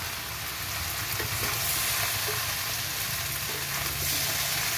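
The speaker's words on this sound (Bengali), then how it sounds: "একদম কি সুন্দর করে কষানো হচ্ছে" Spiced prawn and green jackfruit curry sautéing in a pan, a loud, dense, unbroken sizzle and crackle heard close, with faint stirring underneath and no speech.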